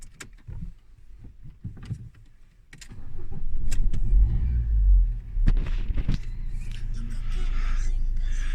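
A Citroën Nemo car engine cranks and catches, then settles into a steady, close, low idling rumble that carries through to the end.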